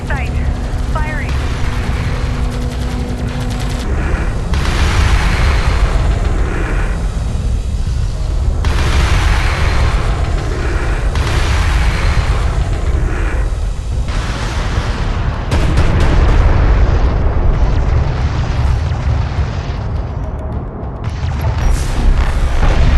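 Weapons fire and explosions in the real-time strategy game Homeworld: Deserts of Kharak, loud booming blasts and rattling bursts layered over a heavy rumbling bed, some impacts sharp and close, continuing with shifting intensity throughout.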